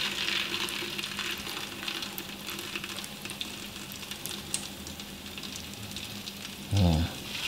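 Korean pentol dough frying in a little oil, stirred with a spoon: a continuous crackling sizzle with a brief scraping stir near the end and no voices.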